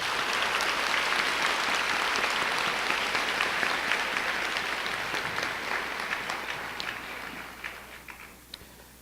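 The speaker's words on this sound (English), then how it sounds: "let's give all those groups a round of applause" A large audience at a high school commencement ceremony gives dense, sustained applause for teachers, parents and the community, loud and steady at first and then gradually thinning out toward the end.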